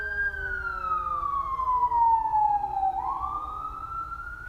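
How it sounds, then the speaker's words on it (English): An emergency vehicle siren in midtown Atlanta sweeps slowly down and then climbs again, distinct but somewhat distant over low city traffic rumble. "And there's sirens."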